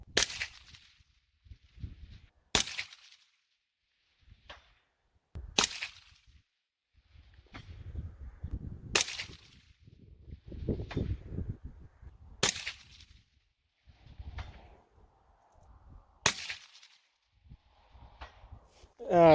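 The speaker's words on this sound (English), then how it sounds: "First round off to the side, had to hold a little more wind. Went ahead and put 5 on steel there" A 22 ARC rifle with an 18-inch Ballistic Advantage barrel firing at a steel target 500 away: five sharp, loud shots spaced a few seconds apart outdoors, with faint handling noise and someone speaking between shots.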